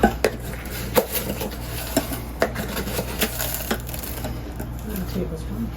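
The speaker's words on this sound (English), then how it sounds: "I will just get a teaspoon and just take out like about 2 nice scoops and just add it" A teaspoon scrapes and clinks against a sugar container and glassware while coconut sugar is scooped into corn juice, making a handful of sharp taps over a quiet kitchen background.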